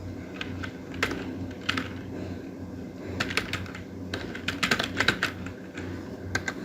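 Quiet, close computer keyboard typing in irregular bursts of quick clicks separated by short pauses, with faint room hiss underneath.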